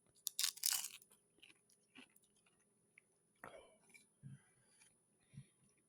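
A person bites into spicy food, a few sharp crunches at the start followed by quieter, scattered chewing and small mouth sounds, close and intimate with no talk.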